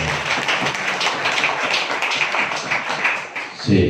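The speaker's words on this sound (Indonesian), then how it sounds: "Tepuk tangan buat teman-teman." Small audience at a village Karang Taruna youth group gathering gives continuous clapping for the members, dense and moderately close, ending with a brief voice at the close.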